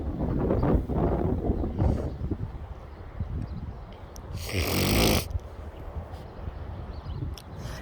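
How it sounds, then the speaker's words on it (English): Strong, gusty wind roars against the microphone in deep rumbling surges, with a harsher, brighter blast near the middle before it eases back to a steady buffeting. "Now the wind is kind of starting to die down just a bit."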